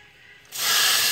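Pressurized refrigerant bursting from the AC system of a 1991 Oldsmobile Custom Cruiser as a bolt is loosened, a sudden loud, close spraying hiss that starts abruptly after a quiet moment and holds steady.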